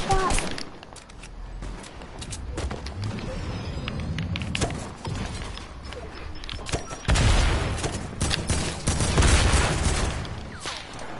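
Fortnite gunfire crackles in bursts over a continuous, busy game soundscape, with heavier booms and rapid shots building louder toward the end while a player talks.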